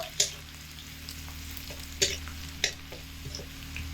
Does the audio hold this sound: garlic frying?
yes